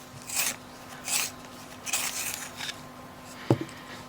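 A colouring pencil being sharpened, giving a few soft, rhythmic rasping twists spaced well apart, close and quiet, ending with a small knock.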